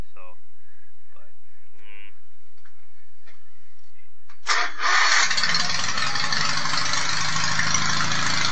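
A Sears 18/6 garden tractor with a twin 18 hp engine cranks and catches, then runs at a loud, steady roar. Quiet clicks and faint tinkering come before the start.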